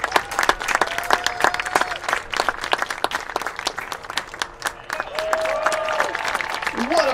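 A ballpark crowd claps after a ceremonial first pitch at a college baseball doubleheader, with brisk, irregular clapping close by, voices and cheers mixed in, and a swell of crowd noise toward the end.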